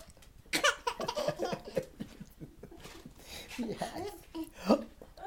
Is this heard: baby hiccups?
yes